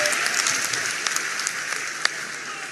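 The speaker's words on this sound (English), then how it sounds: "A round of applause for him." A crowd applauds a speaker at a Ghanaian political talk, a moderate, even wash of clapping with a few sharper individual claps standing out near the end.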